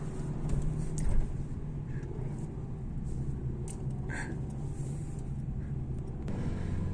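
Car pulling away in first gear on a driving test course, a steady low engine rumble with road noise throughout, close and even in level, a few faint clicks on top.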